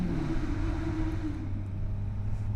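A Kawasaki Ninja 1000SX sport touring motorcycle engine rumbles and revs, a low steady drone with a brief rise in pitch early on before settling back to a smooth idle-like hum.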